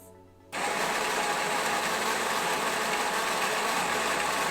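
Built-in grinder of a Sincreative CM5700 espresso machine grinding coffee beans: a sudden start after a brief quiet, then a steady loud motor whir with gritty buzzing, close up.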